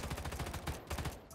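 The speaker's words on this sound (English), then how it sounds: "AMR9, shoot it at the ground." AMR9 gunfire in a video game, a rapid automatic burst of evenly spaced shots, loud and close, with no talking.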